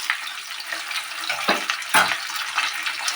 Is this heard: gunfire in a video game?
no